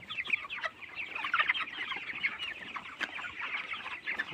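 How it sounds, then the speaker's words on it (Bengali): A shed of about a thousand broiler chickens, with fresh husk litter just spread, fills with dense overlapping clucks and chirps from many birds at close range, steady and busy throughout with no talking. "এগুলো হচ্ছে 1000 ব্রয়লার মুরগি"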